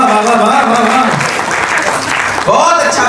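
An audience at a Hindi comic poetry gathering applauds in a loud, dense, sustained wash of clapping, briefly dipping before rising again near the end, with a voice over the top.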